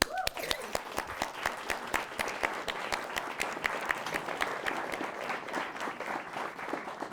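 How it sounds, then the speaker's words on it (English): Modest applause from a small audience at a children's writing contest celebration, individual claps clearly distinct in a quick uneven patter, fairly soft and continuous, with a brief voice at the very start. "a big round of applause for all our children's stories"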